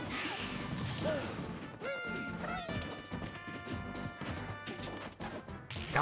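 Heavy smash hits land with crunchy impact bursts during a Super Smash Bros. Ultimate match, several forward smash attacks cracking over busy game effects and music, loud and close, with a brief rising whoosh between blows.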